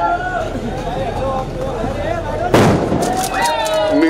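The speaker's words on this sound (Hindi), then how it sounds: "भाई पटाखा मत फोड़ो" Firecrackers burst at a political rally, with one sharp crackling blast erupting midway and fainter pops after it, over an amplified speaker and crowd noise.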